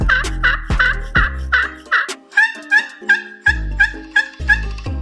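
Slate turkey call worked to imitate a hen turkey's yelps: loud, close, raspy yelping notes in quick rhythmic bursts, a run of about five, a short pause, then another run of similar yelps.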